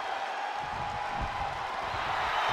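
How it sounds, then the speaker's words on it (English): Crowd cheering from a WWE 2K22 wrestling video game match, a steady roar of loud crowd noise with no break throughout. "The sound of this crowd is deafening, and he's asking for more."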